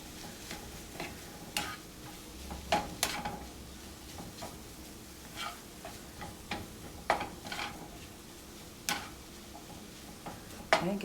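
A ginger beef mixture being stirred in a pan with a small spatula, heard as soft scraping and light ticking taps spread irregularly over a quiet background.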